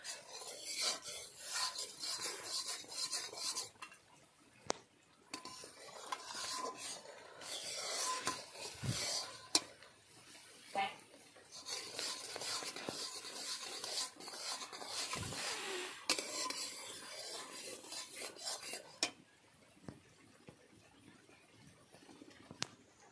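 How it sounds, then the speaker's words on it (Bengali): A spoon or spatula scrapes and rubs against the bottom of a pot as boiling jackfruit juice is stirred continuously to make molasses; rhythmic, rasping strokes repeat close by at moderate volume, with soft bubbling beneath and no talking. "বন্ধুরা কাঁঠালের রসটা টকবক করে ফুটছে। এইভাবে কিন্তু ক্রমাগত নাড়তে হবে।"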